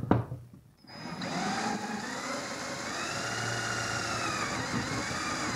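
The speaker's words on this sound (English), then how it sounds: "it's really easy to drill it" A power drill bores a hole into a wall for mounting a keyhole wall hanger, starting slowly after a short pause and then running at a steady, grinding whine close to the microphone with no talking.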